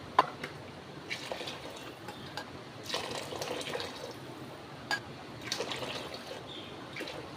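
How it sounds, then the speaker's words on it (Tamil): Hot water pours in uneven bursts and splashes into a pot for mutton dum biryani, with brief pauses between pours and a few clinks, no voices. "சூடான தண்ணி ஏழரை டம்ளர் ஆட் பண்ணிக்கோங்க"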